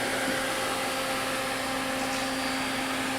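Eldorado Model M75-1061 twin spindle gun drilling machine running at 220 volts, a steady whirring hum with a constant tonal whine and airy hiss, even and unbroken throughout.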